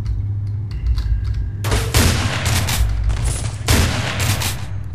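Rapid gunfire from the first-person horror shooter Underhell, loud and close, starting after a quiet opening and continuing as dense overlapping shots with a brief lull near the end.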